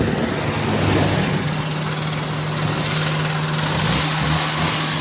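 A Suzuki Mehran petrol engine idles close by with a steady, loud, even hum running on a carburettor being emptied of fuel, holding constant throughout with no talk.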